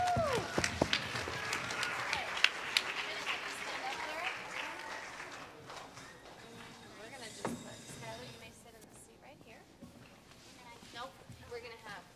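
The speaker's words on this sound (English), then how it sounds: "Everyone, let's give Skylar a round of applause" Audience applause for a speller at a school spelling bee, a loud burst of clapping with a cheer that gradually thins and fades over several seconds, with voices murmuring underneath.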